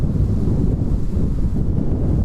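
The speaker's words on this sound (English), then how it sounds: "It's proper windy now." Strong wind buffets an open microphone at an airport, a loud, continuous low rumble of wind noise with no talk over it.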